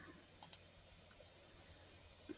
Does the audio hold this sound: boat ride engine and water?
no